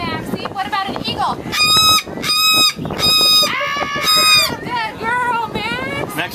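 An umbrella cockatoo imitates an eagle call with a series of loud, shrill, harmonic screeches in rapid bursts, close to the microphone, with other voices around it.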